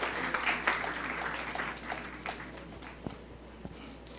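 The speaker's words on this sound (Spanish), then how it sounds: "Dele ese aplauso al Dios" Congregation applause during a church sermon, a steady dense patter of many hands in a reverberant hall that thins out toward the end, with a few sharper isolated claps.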